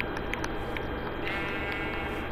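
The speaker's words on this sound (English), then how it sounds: "we got a pink sheep." Pink sheep in Minecraft bleating, a few short bleats close by over steady game background noise.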